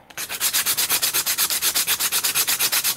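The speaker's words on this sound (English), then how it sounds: "Trying to sand the chamfer" Rapid, rhythmic strokes of sandpaper cut a chamfer into the bottom of a model aircraft frame, about seven rasping passes per second, close and loud with no talking.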